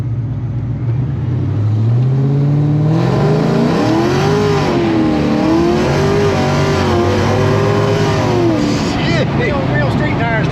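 A 600-horsepower, 2500 lb Fox Body car accelerates hard on street tires, its loud engine climbing and wavering in pitch as the rear breaks loose, close and continuous, with voices in the car.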